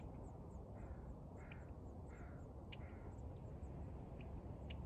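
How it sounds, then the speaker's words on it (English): Geese calling as they fly in over Cranberry Lake on Whidbey Island: faint, distant honking calls scattered over a steady wind or water hiss, with no talking. "You can hear the geese coming in."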